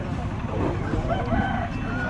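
A chicken at the Hukumpeta tribal market near Araku briefly crows or clucks in the distance, almost buried in a dense wash of crowd murmur and market bustle.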